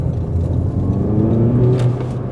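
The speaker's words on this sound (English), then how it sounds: "I'm going to come off this roundabout and plant it and see how the power comes down" An AWD hot hatch, a GR Yaris or Audi S1, accelerating hard out of a roundabout, its engine rumbling loud and steady from inside the car for a couple of seconds with no talk.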